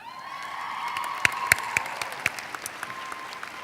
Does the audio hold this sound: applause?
yes